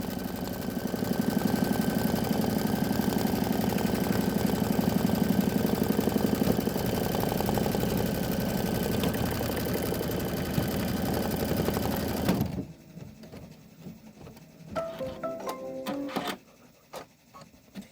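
An embroidery sewing machine stitches out a Kimberbell quilt tile with a fast, steady mechanical whir and needle chatter that runs for about twelve seconds, then stops abruptly, leaving quieter clicks and handling sounds.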